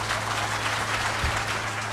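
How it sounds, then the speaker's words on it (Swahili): Steady applause from an audience welcoming guests at the Kitui County Youth Engagement Forum 2024, a dense even patter of many hands clapping without pause. "Makofi kwa wageni wetu tafadhali."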